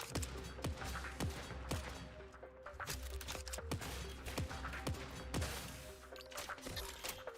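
Semi-automatic gunfire in the video game CyberCorp cracks out as a steady series of single shots at a regular pace over a constant low hum and background game noise.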